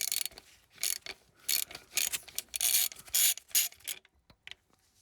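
A ratchet with a 10mm socket undoes a van battery terminal, an irregular run of close, scratchy clicks and short ratcheting bursts that stop near the end, with no talking.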